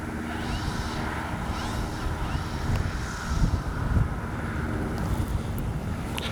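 An RC P-51D warbird model plane flies in strong wind, its engine a steady distant drone almost buried under loud, continuous wind rumble and buffeting across the microphone.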